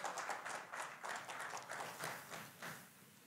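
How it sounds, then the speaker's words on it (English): A church congregation claps during a sermon, quiet and distant, with rhythmic, somewhat uneven bursts of hand claps that fade toward the end. "Come on, let's clap for them."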